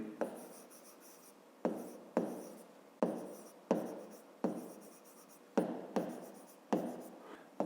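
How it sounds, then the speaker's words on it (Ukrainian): A math solution written by hand on paper: a steady sequence of scratchy pen strokes, each starting sharply and fading, repeating about every half second to a second, close and quiet with no talking. "Давайте так і запишемо."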